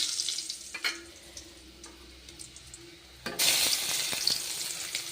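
Green chillies dropped into hot oil with golden garlic, a steady sizzle that suddenly swells louder and brighter partway through as they hit the pan, with a few stirring clicks.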